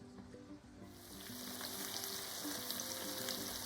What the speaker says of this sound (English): About every 5 to 7 minutes I stir my potatoes around, and as you can see, they're starting to cook just fine.